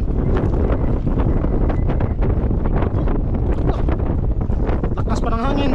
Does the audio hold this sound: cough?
no